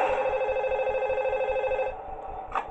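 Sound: phone call ringing in the video game Five Nights at Toothless

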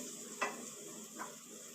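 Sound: frying prawns with spice masala in a pan

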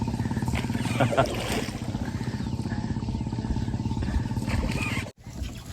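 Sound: boat on the Chandrabhaga river

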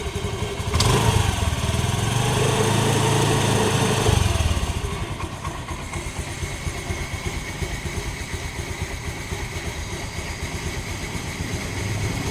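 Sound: Honda Activa 2012 scooter engine started and idling

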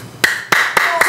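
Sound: audience clapping

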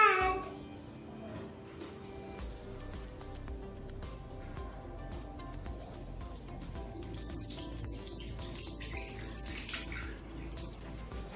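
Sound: water running from a tap for hand washing

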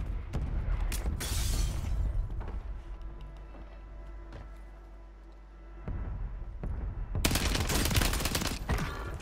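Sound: gunfire in video game Call of Duty Warzone

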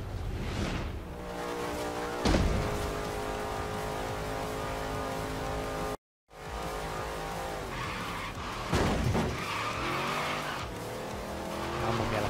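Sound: kart engine and tyre skidding in video game Forza Horizon 3

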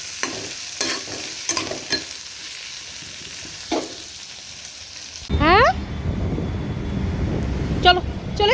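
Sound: potato and okra curry cooking in a pan

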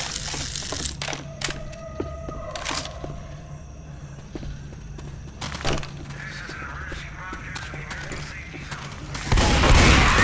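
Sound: gunfire in the video game Left 4 Dead 2

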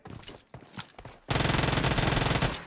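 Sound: gunfire in PUBG Mobile video game

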